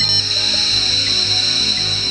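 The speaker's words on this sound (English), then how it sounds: "That's the sound of the PC's digital ones and zeros being converted into the analog" An old PC's dial-up modem sends data down a phone line, a dense, continuous screech of bright warbling tones that holds steady throughout.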